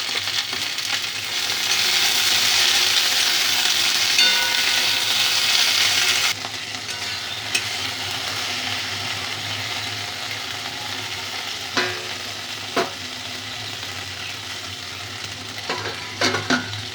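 Okra lightly frying in oil in a pan, a loud hissing sizzle that drops to a quieter steady crackle after a few seconds, with occasional sharp utensil taps.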